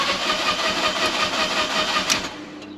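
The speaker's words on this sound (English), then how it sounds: "First start of the new replacement TwinAir engine in my Fiat 500." Replacement TwinAir engine in a Fiat 500 cranking on its first start, a steady, loud churning whir from the starter that runs without catching, close up and with no voices.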